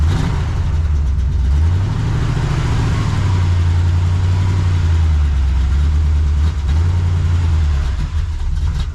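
A 1979 Chevrolet C10 squarebody pickup that had sat unused, with a poorly working accelerator pump, idles loudly and close, its deep engine note rising and falling slightly as the revs waver.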